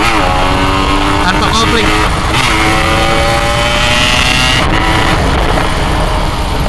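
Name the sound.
Yamaha RX King motorcycle engine revving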